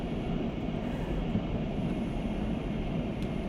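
Steady diesel railcar drone from a Class 127 unit in a railway simulator game, a continuous low rumble with rolling noise, even in loudness throughout and heard alone.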